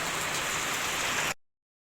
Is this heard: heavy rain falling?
yes